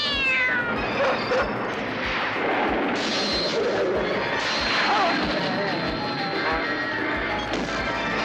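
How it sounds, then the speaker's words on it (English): A chaotic fight scene from the 1991 film The Cat pits an alien cat against a dog: loud yowling and meowing mixed with crashes and heavy impacts, dense and continuous throughout. "There's an alien cat that does battle with a dog in one of the craziest fight scenes"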